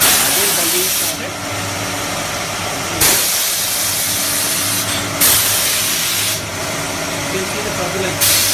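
An automotive parts washing machine dumps liquid from its tank into another chamber, a loud steady hissing gush that surges and cuts off in repeated bursts.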